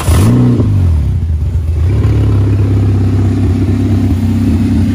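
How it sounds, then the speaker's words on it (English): A Sandlimo sand car engine cranks and catches, then idles and revs with a deep, loud, rumbling drone that rises and settles into a steady throaty growl. "Go ahead and start the car right here for you."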